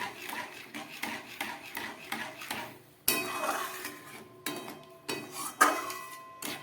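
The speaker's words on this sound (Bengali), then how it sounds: "এবারে খুব ভালো করে এটাকে আমাকে অনবরত নেড়ে জাল দিতে হবে" Semolina barfi mixture being stirred steadily in a pan on a low flame, a spoon scraping and clinking against the metal in a regular rhythm, close and moderately quiet.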